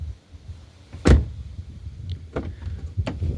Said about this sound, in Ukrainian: Так, слухаємо, як двері закриваються до.